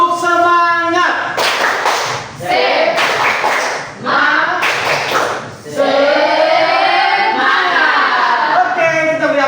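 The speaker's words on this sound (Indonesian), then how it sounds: "mari kita semua sama-sama berdiri, kita tepuk semangat" A school class stands and performs a rhythmic clapping cheer together, loud and close, with bursts of patterned clapping mixed with voices chanting and calling out over it.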